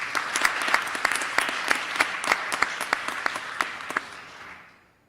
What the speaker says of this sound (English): please join me in a round of applause for today's newly commissioned officers